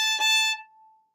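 Single fiddle note bowed straight, a short sustained tone with rich harmonics and a brief bow change partway, then ringing out and fading over about a second, played alone.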